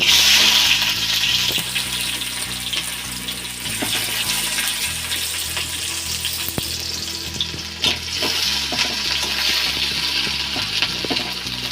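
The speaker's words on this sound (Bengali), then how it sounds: "এবার তেল দিলাম, পেঁয়াজ কুচি দিয়ে দিলাম" Chopped onion sizzles steadily in hot oil in a pan while mustard greens curry is being cooked, with a continuous loud frying hiss and occasional stirring scrapes and small clinks throughout, no talk.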